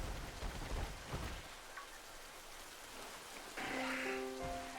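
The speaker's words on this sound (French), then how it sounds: "C'est tellement chiant quand il pleut dans le jeu" Steady rain falling in the video game Pokémon Scarlet, a continuous wash of drops on surfaces, with a bright game jingle of sustained tones coming in near the end.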